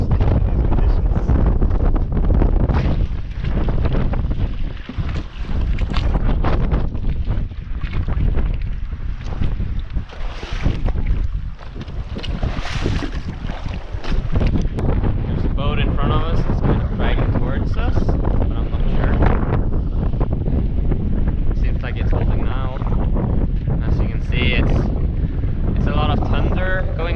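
Strong storm wind buffeting a sailboat at night off Menorca, a loud continuous roar with heavy microphone gusts and rushing water, while a person talks over it in places.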